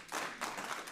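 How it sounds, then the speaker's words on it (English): Faint audience clapping at a school board meeting, a steady patter of several hands heard from a distance for about a second. "I really appreciate your support, but we don't have the practice of clapping"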